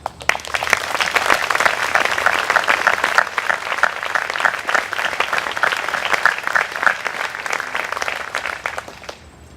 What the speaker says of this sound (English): I ask you to join me in thanking them with our applause.